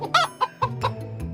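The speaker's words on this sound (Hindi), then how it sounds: "सभी लोग मिलकर एक मुर्गी को पकड़ने की कोशिश कर रहे थे।" A chicken clucks and squawks in short agitated bursts while people try to catch it at a riverside cooking spot, with several sharp calls in quick succession close by.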